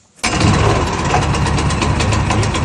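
A petrol engine on a wood chipper catches on a pull start with the choke fully on, then runs loud and steady at a rough, close idle with no talking.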